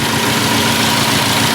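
Stock-looking sleeper car engine idling just after being revved, a loud, steady, rumbling drone with constant vibration and no break.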